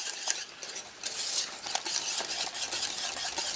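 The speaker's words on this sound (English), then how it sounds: "Mix it all together." Cheesy grits being stirred in a pot with a utensil, a soft continuous scraping and swishing with light clinks, close and fairly quiet.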